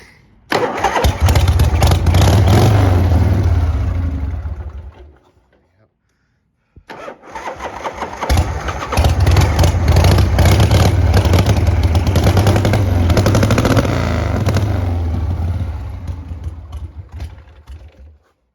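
A 1982 Harley-Davidson Shovelhead FXWG with a 1340cc engine and a dirty carburettor fires up and runs loudly and close. It cuts out after a few seconds, then restarts and keeps running rough until the end.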